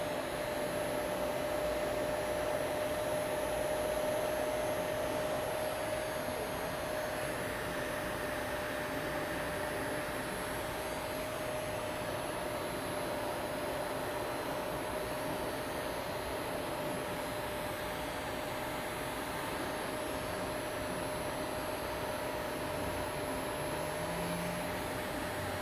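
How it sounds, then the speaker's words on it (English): Steady airy blowing hum of a heat gun warming the adhesive under a Samsung Galaxy S6 battery, continuous and fairly quiet with a faint tonal whine and no talk. "If you're using a heat gun, be careful not to heat it up too much."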